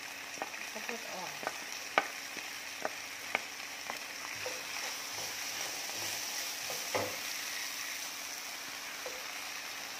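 Baby corn is stir-fried in a hot pan, giving a steady close sizzle with frequent scrapes and taps of a utensil against the pan over about ten seconds, with no talking.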